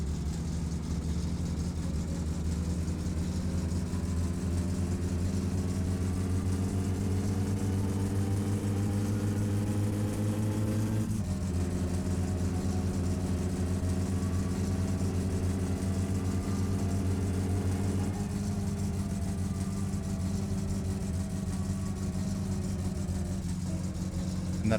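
A car engine idles loudly in the video game My Summer Car, a steady droning hum held for the whole stretch, with a couple of slight shifts in pitch partway through.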